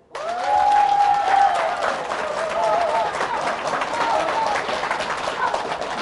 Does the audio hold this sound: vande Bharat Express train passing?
no